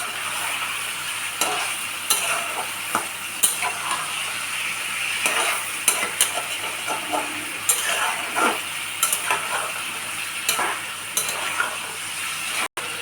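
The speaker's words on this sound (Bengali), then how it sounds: "দিয়ে ভালো করে মিশিয়ে নেব।" Garlic and chicken frying in a pan give a soft, constant sizzle, broken by repeated scrapes and clinks of a spoon stirring against the metal, close and unaccompanied by talk.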